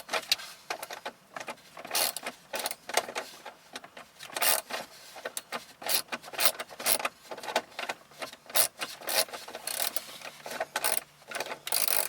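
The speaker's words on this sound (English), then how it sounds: "Alright, I got a little 7mm socket wrench here." A small 7mm socket wrench ratchets out a bolt in a 2002 Ford Explorer during an aftermarket stereo install, giving dense runs of close, crisp clicking bursts with brief pauses throughout.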